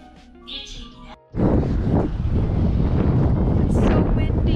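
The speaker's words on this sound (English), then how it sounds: "It's so windy." Strong wind buffets an outdoor microphone in Korea, a loud continuous roar that starts abruptly after a quieter opening with faint voices and lasts to the end.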